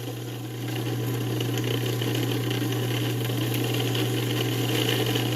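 A kitchen blender runs at full power chopping sofrito, the Spanish base of onion, pepper and herbs, giving a steady loud motor drone with a strong low hum and gritty whirring throughout, alone without talk.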